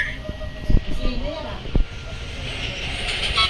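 A train rolls past in a game, with low rumbling, a couple of sharp metallic clanks, and a hissing wash of noise building toward the end, heard close beneath a steady tone.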